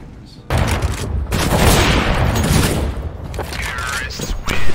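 Gunfire in Counter-Strike: Global Offensive, with a loud, dense burst of shots and booming impacts that starts abruptly and stays intense, ending in a few sharper cracks.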